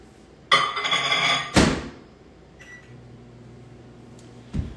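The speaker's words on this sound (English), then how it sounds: "Into a little glass bowl and then in the microwave." A microwave oven heating food in a glass bowl: a beep and door thunk, then a low steady hum as it runs, ending with another clunk.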